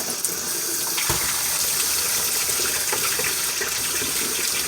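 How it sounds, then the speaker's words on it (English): Cold tap water gushes steadily over hard-boiled eggs in a sink, a loud continuous splashing rush with a few knocks and clunks. "Now, once you get your hard-boiled eggs, you're going to run cold water over them."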